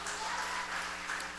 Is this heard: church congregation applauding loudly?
yes